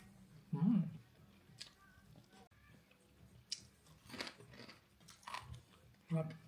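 Someone chewing crunchy dried fish, with several close crisp bites and crunches spread through the clip amid quiet background.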